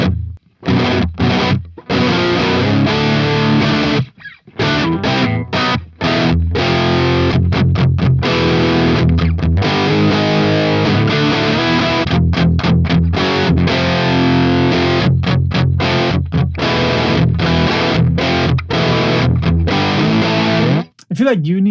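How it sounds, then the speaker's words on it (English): Heavily distorted electric guitar through a Neural DSP Archetype Nolly amp sim with gain maxed, loud dense riffing in chugging bursts broken by short stops, with talk over parts of it. "Let's turn the gain up all the way."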